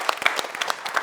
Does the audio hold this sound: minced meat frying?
no